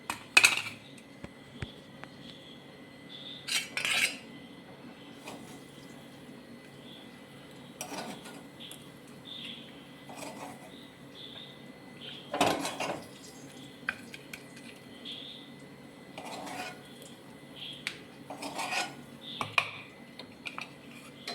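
A spoon scrapes and taps in a bowl while chammanthi chutney is mixed with leftover coconut oil: scattered soft clinks and scrapes, close but quiet, spread over a low steady background hum.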